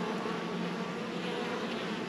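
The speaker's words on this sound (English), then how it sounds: "You can see the bees bringing in pollen" Honey bees swarm around a strong hive, their dense, continuous buzzing loud and close, with no voices over it.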